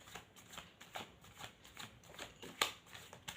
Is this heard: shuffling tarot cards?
yes